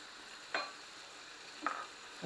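Chicken liver pieces cook with spice for a barbecue-style recipe, with a faint, low hiss broken by three short clatters of handling spread across a couple of seconds.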